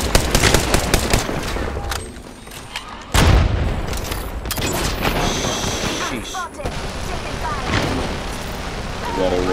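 Gunfire in Apex Legends arena combat: loud bursts of shots and booming impacts with a heavy blast near the middle, a voice speaking over the fighting.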